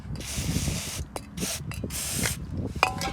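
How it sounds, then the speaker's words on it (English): Aerosol multi cleaner sprayed onto a Mitsubishi Outlander starter motor, heard as several short, close, loud hissing bursts separated by brief gaps, with faint clicks between them. "So we're going to use the multi cleaner."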